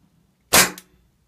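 A single sharp shot from a T4E TM4 real action marker, loud and close with a quick decay and a faint second click just after, no voices.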